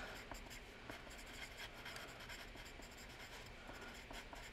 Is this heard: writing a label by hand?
yes